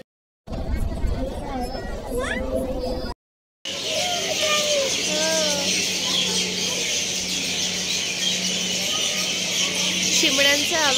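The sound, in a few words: sparrows chirping at a temple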